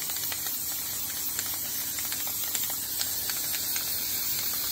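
A steady close spray hiss of liquid onto a fabric flower during a borax crystal project, continuous and fairly faint, with small clicks throughout.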